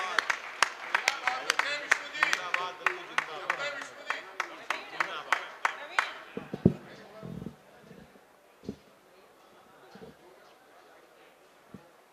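A crowd at a Hindi kavi sammelan welcomes a poet with scattered, fairly close claps that turn into a rhythmic run for several seconds and then trail off into a few isolated claps.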